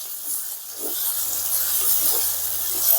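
Large chunks of tomato cook in hot oil for a millet-flour vegetable dish, giving a steady bright sizzling hiss throughout, close and fairly loud, with faint low bubbling underneath.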